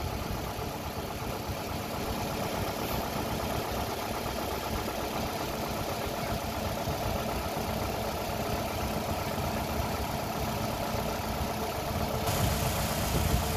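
A car engine runs steadily at raised RPM, a continuous dense mechanical drone without change in pace, heard close and alone.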